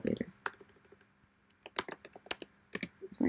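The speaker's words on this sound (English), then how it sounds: "So I'm typing text." Rapid, uneven clicks of a computer keyboard as someone types HTML and CSS code, close and fairly crisp, arriving in short bursts separated by brief pauses.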